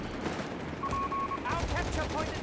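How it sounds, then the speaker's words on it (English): Heavy machine gun fire mauling a rifle squad in Company of Heroes 3, a steady rattling burst of battle noise with a brief tone and clustered impacts near the end, mixed under a commentator's voice. "Rifle Squad now being mauled here by heavy fire"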